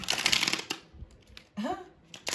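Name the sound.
shuffling tarot cards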